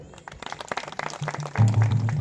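Hands clapping in a church service, a brief burst of applause swelling near the end under a background of voices and room noise.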